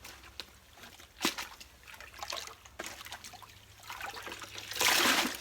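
Human hair wig swished and agitated in soapy water, giving soft, intermittent sloshing and trickling with a few sharper splashes and a louder rush of water near the end.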